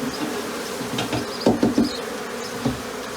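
Honeybees buzz steadily at close range during a swarm removal, with a few louder bursts and thumps standing out from the continuous drone.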